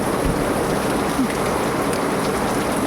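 Heavy rain pours down steadily, a dense, loud, unbroken hiss of drops with a faint low rumble underneath and no voices.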